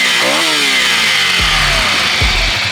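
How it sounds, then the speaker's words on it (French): A 2023 Ducati Scrambler 800 Next-Gen engine gets one or two blips of the throttle, loud and close, with a rising rev sweep over a steady mechanical hum. "on va donner un ou deux coups de gaz"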